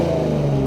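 A third-generation Ford Raptor idles with its stock exhaust valves wide open in Baja mode, a deep, steady burble with strong low harmonics, ending in a brief louder blip right at the close.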